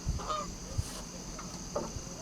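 A few short honks from geese nearby, scattered over a couple of seconds against a quiet outdoor background.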